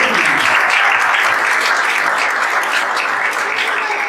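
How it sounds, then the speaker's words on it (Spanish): A church congregation breaks into loud, sustained applause, dense clapping filling the room without a break. "Denle el aplauso fuerte al Señor."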